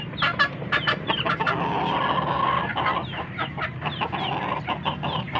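Pet chicks cheep and peep continuously while pecking at feed, a busy close chorus of overlapping high calls with no talk.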